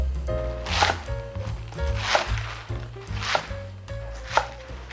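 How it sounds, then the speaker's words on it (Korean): A knife chops green onions (jjokpa) into about 6 cm lengths on a cutting board, four distinct rhythmic thumping cuts close up, each with a crisp crunch, heard alone. "쪽파를 그냥 한 6cm 길이로 썰어 주시면 돼요."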